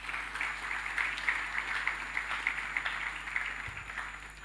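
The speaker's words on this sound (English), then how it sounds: "Can you clap for that?" A conference audience applauds steadily throughout, a continuous wash of many hands clapping at moderate volume in a large hall, with no voices over it.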